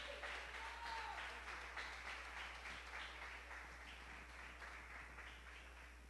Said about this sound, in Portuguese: exalte o Senhor mais uma vez com as suas palmas